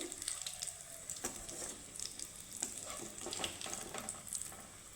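Potato patties frying two at a time in hot oil, a soft, quiet continuous sizzle with crackling pops throughout.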